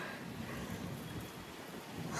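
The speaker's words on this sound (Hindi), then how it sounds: "आंधी का असर देखिए कितनी तेज़ है" A strong windstorm roars as a steady, broadband rush with constant buffeting that swells slightly toward the end, close and fairly loud, with no voices.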